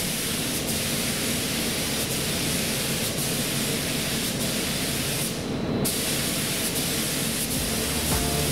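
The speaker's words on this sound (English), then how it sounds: "Now I'm going to spray three coats over the motorcycle helmet." A steady, continuous hiss of spray paint onto a motorcycle helmet fills the clip, with a brief pause near the middle before the spraying resumes, loud and close.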